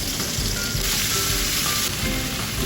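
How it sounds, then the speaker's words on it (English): Red curry paste sizzles steadily in hot oil in a preheated pan, a dense, even frying hiss that runs throughout at close range with no talking. "On your preheated pan, let us saute the red curry paste"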